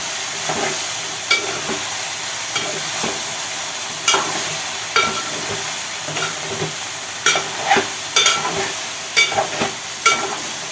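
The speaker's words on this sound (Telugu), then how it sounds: "వేగాలంటే చాలా కలపాలి. అడుగు అంటుతుంది, కలపాలి." Okra fry sizzling in a pan while a spatula stirs it repeatedly, giving a steady frying hiss broken by regular scraping knocks against the pan bottom, close and clear with no talk.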